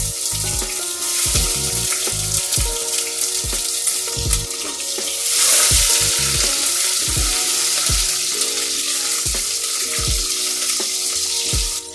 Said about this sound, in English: once the whole garam masala starts popping up, add 1 finely sliced onion